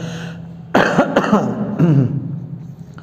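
A single harsh cough followed by throat-clearing rasps, close and fairly loud, fading into quiet breathing.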